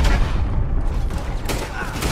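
Gunfire in Red Dead Redemption 2 during a wagon fight: a dense, loud stretch of rapid shots and booms that runs the whole time, with sharper cracks near the end and no clear speech.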